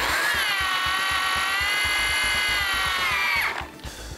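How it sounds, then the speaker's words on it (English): A BAND-IT power tensioning tool tightens a band clamp with a steady, loud whining drone and rhythmic mechanical ticking, then clutches out and stops abruptly near the end. "Make sure when you're triggering the tool that you hold it down rather than feathering until the tool clutches out."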